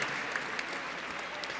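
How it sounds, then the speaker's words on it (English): Steady, dense applause fills the room at a charity gala auction, a continuous crowd clapping at an even level with a few sharper claps standing out, no voices on top. "Big round of applause for buyer number."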